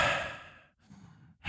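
A voice imitates heavy breathing with one long, loud exhale that fades over about half a second, followed by a softer, rougher breath and the start of another sharp intake.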